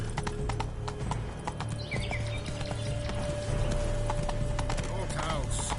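A horse galloping in the video game The Witcher 3, with steady rapid clip-clop hoofbeats close by throughout, layered over game music and ambience, with a brief neigh and a voice speaking.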